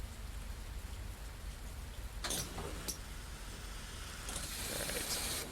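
Rain drums steadily on the roof of a small Scania shuttle bus in a bus-driving game, a dense continuous patter with a couple of brief brighter splashes and a slight swell toward the end.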